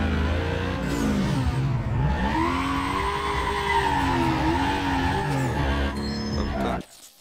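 Racing car engine revving through gear changes with tires skidding in Need for Speed Most Wanted, a loud continuous drone rising and falling for several seconds before cutting off abruptly.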